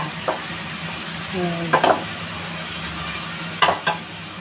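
Chicken liver adobo with pechay simmers in a pan under a steady, close sizzle, with a few brief clanks and scrapes of a utensil stirring; no voices.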